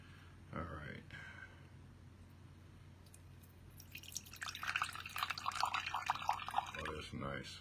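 2006 Nan Jian Wu Liang Phoenix tuo pu-erh tea trickles and drips unevenly into a vessel instead of pouring in a solid stream. The liquid sounds are soft and close and build toward the end, with a person talking over them.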